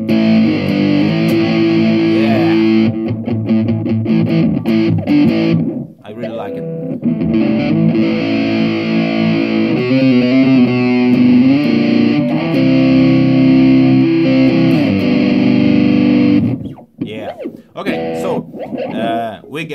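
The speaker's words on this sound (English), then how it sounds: "We got distortion, we got dynamics change by this limiter" Distorted electric guitar on humbucker pickup through a Zoom G3Xn with limiter, playing sustained, gritty chords and notes, loud and upfront, with a brief drop in the middle and choppy bursts near the end.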